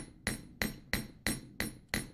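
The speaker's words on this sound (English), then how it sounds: "doing it at an angle like that as I hammer it" Hammer blows on wire held at an angle while winding a caterpillar-track coil, six sharp ringing metallic strikes at a steady, even pace, close and clear with no talk.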